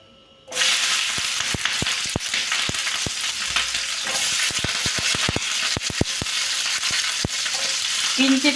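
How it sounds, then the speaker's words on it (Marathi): Green chilies tossed into very hot oil for Maharashtrian wangyache bharit, a sudden loud burst of frying that settles into a continuous sizzle with repeated sharp clicks and spatters throughout. "कडक तापला आहे तेल आता, त्यामुळे मिरची घालून देऊ पहिले."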